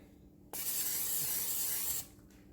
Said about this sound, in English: take my potato back out and I'm going to spray it